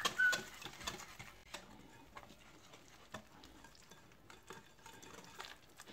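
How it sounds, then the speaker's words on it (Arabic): Eggless cake batter being mixed with oil and water in a bowl, quiet irregular stirring strokes and soft wet clicks, close and faint with no talking. "غادي نخلط"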